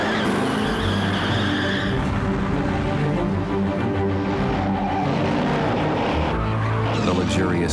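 A Nissan Maxima drives in a TV advert, its engine roaring loudly and continuously with rushing road noise and a brief skid-like swell, under a narrator's voice.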